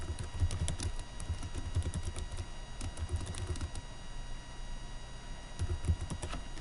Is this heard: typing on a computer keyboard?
yes